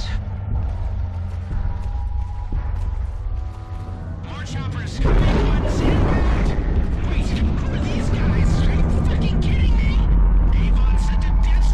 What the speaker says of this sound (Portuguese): Vai acontecer uma explosão muito louca aqui, né?